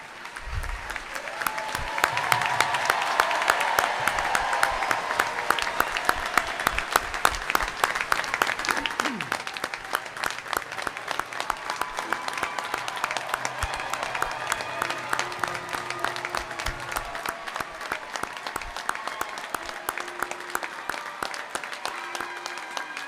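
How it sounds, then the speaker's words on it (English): Dense, sustained applause from a large audience for graduates at a Naval Postgraduate School graduation ceremony indoors, swelling early and holding steady for over twenty seconds, with faint voices and stray sounds beneath the clapping. "join me in a well-deserved round of applause for our graduates"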